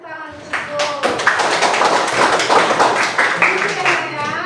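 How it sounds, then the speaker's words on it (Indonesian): Junior high school students clap together in a classroom, a burst of hand claps that starts abruptly and stays fairly loud and close, with voices mixed in beneath the clapping. "kasih tepuk tangan dulu"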